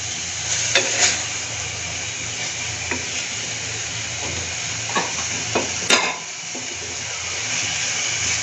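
Pasta in red sauce with a spoonful of soy sauce fries with a constant loud hiss, while a utensil stirring in the pan adds scattered scrapes and clinks throughout; no one speaks.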